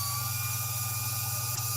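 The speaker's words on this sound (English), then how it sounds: "let's turn our spindle on" A machine spindle running at a steady speed gives a close, constant motor hum with a thin tonal whine above it. No voices are heard.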